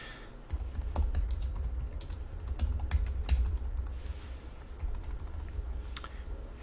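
Rapid, close clicking of C# code being typed on a computer keyboard, an even run of crisp keystrokes over a low hum, with no one speaking.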